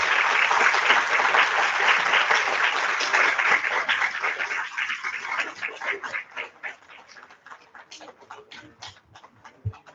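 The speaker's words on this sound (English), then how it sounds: "how about a big round of applause for our AB Honor Roll students?" Audience applause at a first-grade school awards assembly honoring honor roll students, dense and loud at first, then thinning into scattered individual claps that fade out.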